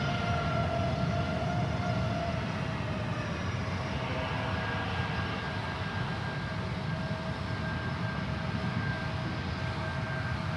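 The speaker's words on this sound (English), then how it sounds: "Potential double landing on the 28s happening next" A jet airliner roars on approach to runway 28 at San Francisco airport, a steady broadband engine rumble with faint whining tones, continuous and fairly loud throughout with no voices.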